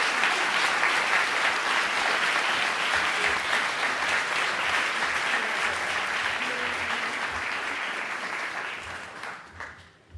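An audience at the SustainPHL 2018 event applauds a presenter in a sustained, even round of clapping that fades out near the end, with no talk over it.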